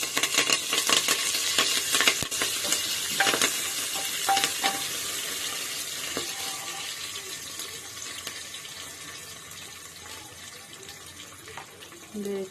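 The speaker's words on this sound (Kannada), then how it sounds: "ಈರುಳ್ಳಿ ಫ್ರೈ ಆದಮೇಲೆ ಕರಿಬೇವು" Onion and curry leaves crackle and sizzle steadily in oil in a pan, with occasional stirring clinks, loudest at the start and easing off slightly toward the end.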